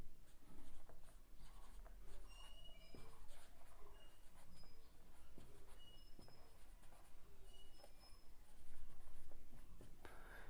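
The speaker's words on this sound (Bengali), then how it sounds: "তো দেখো লিখছি 1 নম্বর অঙ্ক।" Pen writing on paper during a class 8 maths lesson, a faint, close, continuous scratching with small rhythmic strokes and taps over a quiet room hum.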